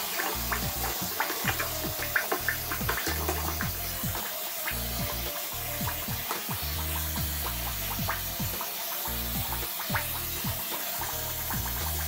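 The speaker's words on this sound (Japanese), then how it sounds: "バスタブ側の穴からシャワーを流しまして排水口の中もすすいでいきます" Shower water runs into a bathtub drain to rinse it after cleaning, a steady close rush of splashing and gurgling flow with no one speaking.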